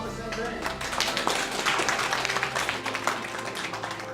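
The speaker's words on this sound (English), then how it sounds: "Round of applause, Thomas and Paine." A television studio audience gives a dense, steady round of applause for two performers during a Guangdong TV broadcast, with close clapping that holds for the whole stretch and a voice faintly underneath.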